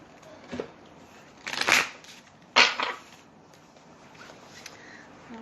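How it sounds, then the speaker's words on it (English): Tarot cards riffle and shuffle in two quick bursts, with softer handling taps around them in a quiet room. "One more shuffle."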